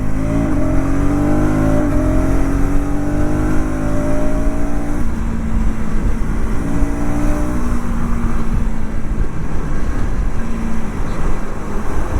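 A KTM Adventure 250 motorcycle engine drops through gears with a slipper clutch, its pitch stepping down in stages over a steady loud rumble of road and wind noise.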